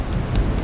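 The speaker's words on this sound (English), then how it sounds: "Just as we're about to take off, thunder, lightning." Low thunder rumbling through a storm with steady rain just before a small plane takes off in the Congo, one brief swell of rumble over a constant wash of rain.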